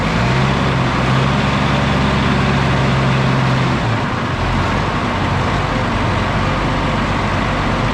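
An M35A2 military truck's engine runs loud and steady with a low drone and a sustained whine that drops off around midway, the rumble continuing rough and heavy afterward.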